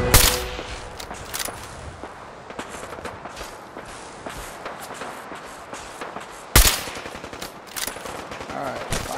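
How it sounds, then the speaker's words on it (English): Laser weapons fire in Fallout 4 at the Revere Satellite Array, with sharp shots popping irregularly over a busy combat bed and a loud burst near the end. "I'm still being shot."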